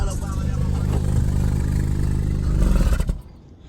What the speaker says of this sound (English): Why your exhaust sound like that? It just sound aggressive, like it got something shit missing.